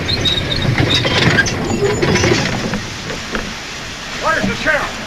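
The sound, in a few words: train arriving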